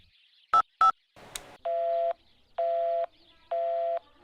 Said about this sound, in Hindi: कब से फोन लगा रहा हूँ, पर रिंग तो नहीं आया